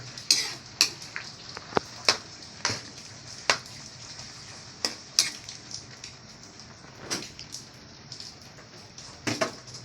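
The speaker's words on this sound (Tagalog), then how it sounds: "Ginisa muna natin sa bawang luya, sibuyas, kamatis" Squid sautés with garlic, ginger, onion and tomato, a soft low sizzle under repeated sharp metallic clicks and scrapes of a spatula against the pan, irregular but frequent across the clip.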